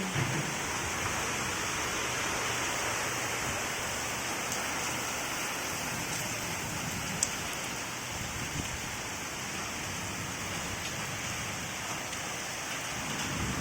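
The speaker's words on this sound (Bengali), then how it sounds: "বাইরে প্রচন্ড বৃষ্টি হচ্ছে" Heavy rain pours steadily outside during a thunderstorm in a dense, unbroken hiss, with no voices and only a faint sharp tick partway through.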